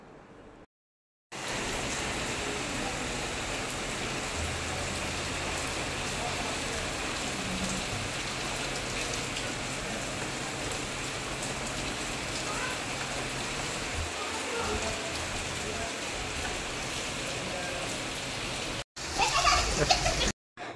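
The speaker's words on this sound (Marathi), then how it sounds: "आत्ताशी आमच्याकडे पहिला पाऊस येतोय" Steady, dense first monsoon rain in Bharuch pours down continuously, a broad hiss of drops on surfaces, briefly cut off near the end before resuming more loudly.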